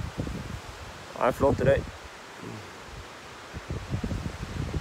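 Gusts of wind rustle through trees and buffet the microphone, rising and falling, while someone speaks briefly partway through.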